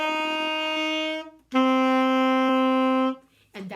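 Two sustained reed-like wind notes played one after another, bright and close, the second held longer, followed by a short breath or voice.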